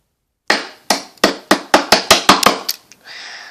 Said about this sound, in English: we need the little hammer to break off the ice off the car